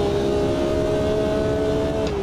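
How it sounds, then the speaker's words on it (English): Race car engine in the Automobilista 2 driving simulator, a loud steady tonal drone with a sudden pitch shift near the end as the driver downshifts. "Doing a little bit of heel and toe, just a blip on the downshifts"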